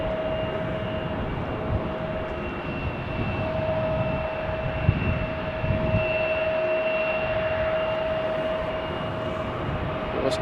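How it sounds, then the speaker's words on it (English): A 22-year-old MHS Aviation Bombardier Challenger 603 business jet taking off at Amsterdam Schiphol, a sustained distant jet roar with a steady whine, holding level for the whole stretch with a couple of faint bumps midway. "MHS Aviation Bombardier Challenger 603 that you saw just now, the BizJet, 22 years old."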